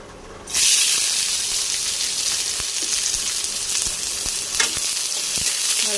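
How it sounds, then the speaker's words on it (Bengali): Chopped onion hits hot oil with bay leaf pieces and cumin already in the pan, bursting into a loud, steady sizzle after a quiet start, with occasional soft scrapes of stirring through the continuous hiss. "এবার দিয়ে দেবো পেঁয়াজ কুচানো।"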